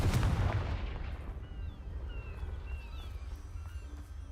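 A Confringo fire-blast spell cast in the Hogwarts Legacy video game: one loud, booming burst at the start that fades into a lingering low rumble, with faint high whistling tones drifting through the tail and no voices.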